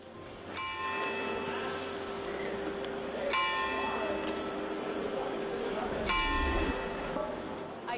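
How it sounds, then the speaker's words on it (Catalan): Church bells of Santa Maria in Maó, Menorca, played as a recording through loudspeakers from an iPhone, ring at intervals with struck tones and long-sustained overtones, bell strikes recurring every few seconds over a steady background murmur, with faint voices underneath. "A Maó, enguany, sonaran les campanes de l'església de Santa Maria"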